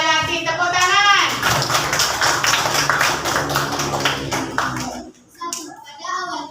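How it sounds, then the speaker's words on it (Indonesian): Children in a classroom group clap to cheer on the Melati group, a dense burst of quick hand claps mixed with chatter and a teacher's voice, fading out after about five seconds. "Silakan kasih semangat dulu untuk kelompok Melati. Tepuk tangan."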